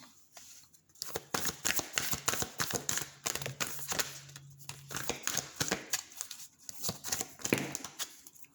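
Moonology oracle cards are shuffled by hand close up, making a series of quick, crisp riffling and slapping bursts in irregular rhythm across several seconds.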